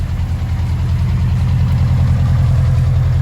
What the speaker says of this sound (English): You can hear the pistons a little bit, but it runs really well.